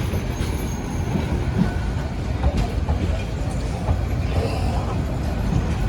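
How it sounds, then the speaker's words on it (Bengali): A Dewanganj commuter train rolls into Joydebpur railway station, its steady loud rumble of wheels and carriages filling the scene with a faint squeal and a constant station din around it. "এইমাত্র আমাদের দেনগঞ্জ কমিউটার ট্রেন প্রবেশ করলো জয়দেবপুর রেলওয়ে স্টেশনে"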